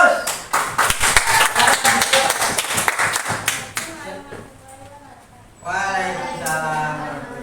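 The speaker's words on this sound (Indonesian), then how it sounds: "Oke, kita kasih aplaus." Audience applause at a school guidance session, a burst of brisk, dense clapping that fades out, followed by a voice speaking.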